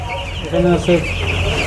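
Chickens about thirteen days old in a poultry farm room holding around five hundred birds, giving a couple of short clucks over a constant background murmur of the flock, close by.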